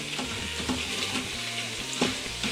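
Whole spices sizzle and crackle steadily in a hot pan as they are stirred and toasted for an achari Italian beef, a dense, continuous frying hiss heard close with occasional scrapes and no talking.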